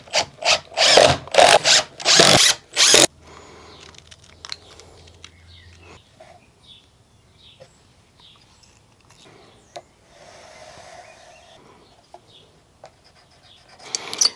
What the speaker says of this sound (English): so what I'll do is I'll screw that down.